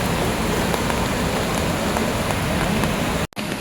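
Rain falls at an outdoor monsoon carnival, a dense steady patter on surfaces heard loud and close, cutting off briefly near the end.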